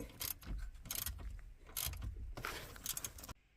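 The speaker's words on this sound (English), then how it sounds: "I hand threaded this, so I'm going to tighten it up now." An 8mm bolt securing a new ignition switch to the steering shaft of a 2010 Ford Escape is tightened with a ratchet, giving close, bursty clicking and rasping in uneven runs, then silence at the end.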